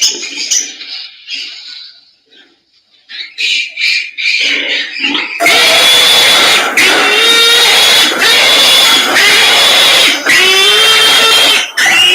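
Pigs screaming, a harsh shrill squealing that starts in sporadic bursts, then swells into loud, continuous overlapping shrieks.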